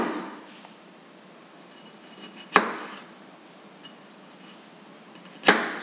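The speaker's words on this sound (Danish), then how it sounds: "I kan sikkert ikke se, at jeg skærer en gulerod mere" A knife cuts a carrot into round slices on a board, a few sharp isolated chops spaced several seconds apart over a faint background hiss, close and distinct.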